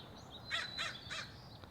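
A crow caws three times in a quick, even sequence at a moderate distance on a sunny Southern California morning, with a faint trailing call after and no voices.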